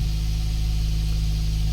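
A car engine idles steadily with a deep, constant low rumble and faint vibration, no other sounds.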